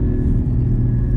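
A Porsche GT4 driving on snow makes a loud, close, steady low engine rumble throughout this brief moment.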